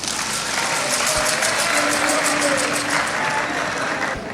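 An audience applauds the president of the Republic, Mamadi Doumbouya, at a cultural event in Guinea, steady dense clapping that fills the whole stretch without a break.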